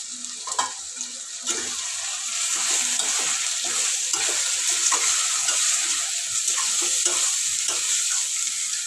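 Chicken curry with chilli powder, turmeric and rock salt stirred in a frying pan, a steady sizzle under repeated scraping strokes of the spoon, fairly loud and close with no talk.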